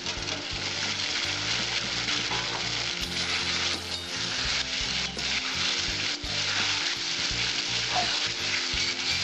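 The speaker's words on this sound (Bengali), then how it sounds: "এবার ভালো করে আমি আলুটা মশলাটা কষিয়ে নেবো 2-3 মিনিট" Potatoes and spices sauté in a pan for a vegetarian Bengali lentil-dumpling curry, giving a steady, close frying sizzle with scraping stirs throughout and no voices.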